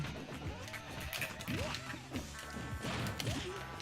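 A character is smashed across the stage in a fighting video game, with a flurry of crashing hits and whooshing game effects under voices and background game sound.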